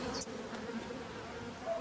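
Honey bees buzz around an open nucleus hive frame, a dense, close, continuous hum of many wings with brief louder passes of individual bees, no talking heard.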